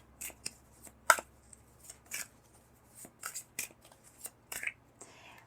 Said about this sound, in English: I'll pull more cards to clarify some more.